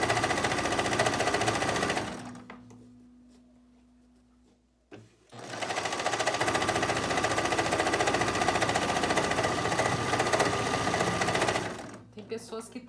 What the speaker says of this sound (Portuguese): tô passando no zigue-zague